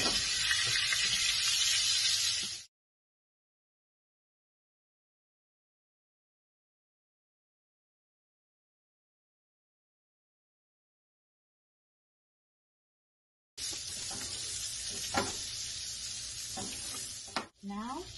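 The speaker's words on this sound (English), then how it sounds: "I'm going to start adding butter to the pan and basting the top of the fish" Fish frying in a pan while butter is spooned over the top, a close bright sizzle heard in two stretches separated by a long gap of silence.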